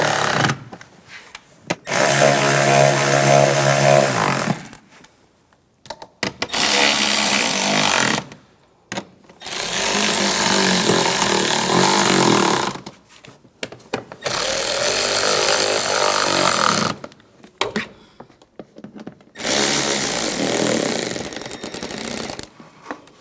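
A power tool tightens screws during spark plug work on a 2008-2013 BMW 328i xDrive. It gives five long, loud, close whirring runs, each several seconds long and separated by brief pauses.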